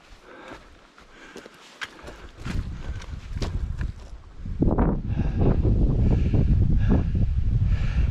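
Gusty, cool wind buffets the microphone on a hiking trail around a combe near Pennes-le-Sec in the Diois, growing stronger and roaring steadily in the second half, with faint rustling and soft steps underneath.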